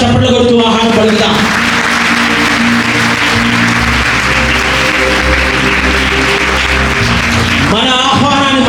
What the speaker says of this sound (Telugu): గట్టిగా చప్పట్లు కొడుతూ ఆహ్వానం పలుకుతాం